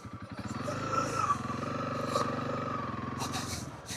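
A 300L dual sport motorcycle engine idles and revs on desert trails in Arizona in winter, a steady low rumbling drone heard close and moderately loud, with no speech.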